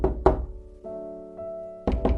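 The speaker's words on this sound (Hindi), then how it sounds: "तभी किसी ने गेट खटखटाया," Someone knocks hard on a gate, a few loud close thuds at the start and again at the end, with a sustained ringing tone in between.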